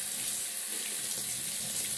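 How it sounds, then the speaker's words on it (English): Tap water runs steadily into a sink while a cloth mask is rinsed, a continuous close hiss and splash with no voices. "I'm going to rinse out all the water."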